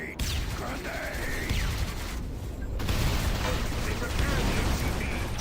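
Grenade blasts and gunfire in a Halo-style multiplayer match, a dense continuous barrage of booming bursts and pops with game effects layered throughout, loud and sustained.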